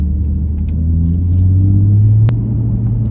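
BMW M2 in sport mode, a steady deep engine rumble heard from inside the car, rising slightly in the middle, with a brief click partway through and no talk.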